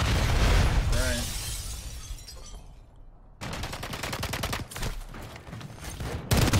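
Gunfire in the video game Call of Duty MW3 arrives as loud bursts of rapid shots with a shattering, crackling texture. A brief quieter gap separates them, then dense repeated firing returns.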